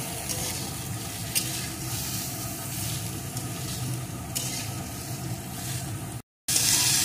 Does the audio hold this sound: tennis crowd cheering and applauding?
no